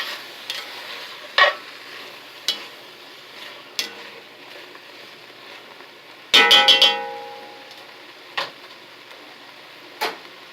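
Beef drippings being stirred and scraped off a pan bottom while making beef stroganoff, heard as a low steady sizzle broken by sharp utensil clacks against the pan and one busy burst of scraping near the middle.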